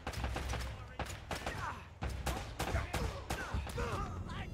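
Gunfire from the video game Uncharted: Drake's Fortune comes in a string of sharp, loud bursts and rapid volleys, with game sound effects in between.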